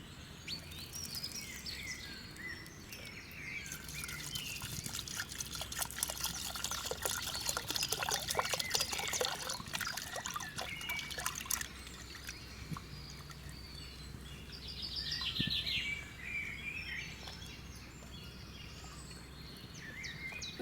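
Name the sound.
washing a clay cooking pot with water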